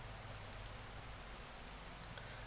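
Steady, dense rain hiss during a bike race in the Pro Cycling Manager 22 video game, a Giro d'Italia stage, continuous and even throughout with no voices.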